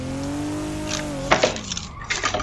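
A BMW drifting at Bihoku Highlands in Assetto Corsa: a steady engine drone gives way to sharp bursts of tire squeal and scrubbing, fairly close and moderately loud.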